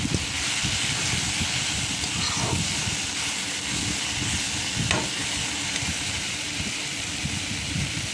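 Fried lentil dumplings and peanuts are stirred in a hot pan, giving a steady loud sizzle and hiss of frying with scraping stirs mixed in, continuous throughout without speech.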